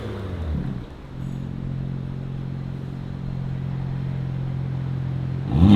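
Steady low engine drone of a BMW M3 G80 fitted with a Valvetronic exhaust, idling or rolling slowly around a shop, even and moderately loud with little revving and a brief swell at the end.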